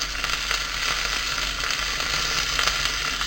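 Mustard seeds, red chilies and curry leaves sizzle in hot oil for a coconut chutney tempering, a dense, continuous crackling hiss with tiny pops, close and steady, with no voices.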